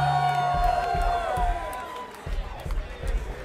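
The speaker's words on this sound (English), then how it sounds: "Brendan Blass on bass. Big round of applause." Crowd at a live trio show claps, whoops and cheers for the bassist, a steady mass of applause with sharp shouts on top and someone talking through the noise.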